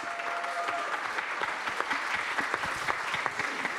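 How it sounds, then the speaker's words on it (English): An audience claps for artist Fujiko Nakaya at a panel discussion, a dense, steady round of applause from a crowd filling the room. "A big round of applause"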